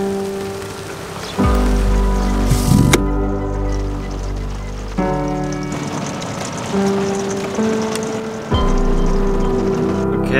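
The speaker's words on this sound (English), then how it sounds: "it's just started raining quite heavily" Heavy rain pours down on the coast in a loud, dense patter. Sustained tonal hums and abrupt shifts in level run through it.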